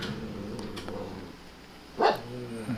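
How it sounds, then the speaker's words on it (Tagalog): A single loud dog bark bursts out near the end, over a low steady background hum, with a couple of faint yips before it. "Ingay yung aso."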